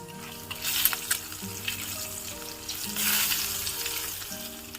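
Egg pieces with turmeric fry in hot oil in a pan, a close, moderate sizzle that swells and eases in waves alongside a steady low hum.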